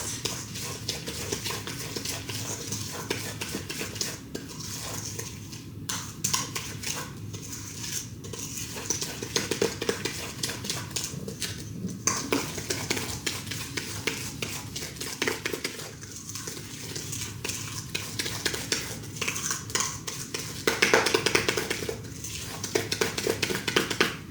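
Chocolate chip cookie dough is creamed by hand in a bowl, giving a continuous soft scraping and stirring with irregular clinks of utensil against bowl, fairly quiet and close.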